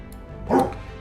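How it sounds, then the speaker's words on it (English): A dog just woken up lets out a single short bark midway through, moderately close, over a faint steady background hum with no talking. "the dog just woke up"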